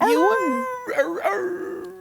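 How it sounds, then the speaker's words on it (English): A hound dog howls in long, wavering, rising and falling tones, close and fairly loud, with a second howl following after a short break. "The howl."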